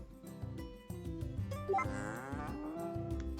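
A cow moos in the farming video game Story of Seasons: A Wonderful Life, two drawn-out moos over cheerful background game music, fairly quiet.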